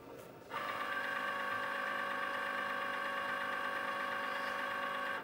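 A Cricut Explore Air 2 cutting machine switching on: quiet near-silence, then an abrupt start into a steady, whirring mechanical hum that holds evenly until it cuts off.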